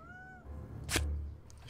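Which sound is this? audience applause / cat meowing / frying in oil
cat meowing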